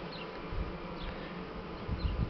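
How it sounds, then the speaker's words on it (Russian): Steady low buzzing of honey bees droning together at a hive, with a few louder swells as individual bees pass close. "Это пчелы"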